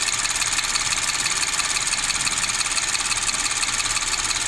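A V6 gasoline direct injection engine with a hard-starting cold fault idles steadily up close, a continuous even hum with rapid ticking and clatter throughout.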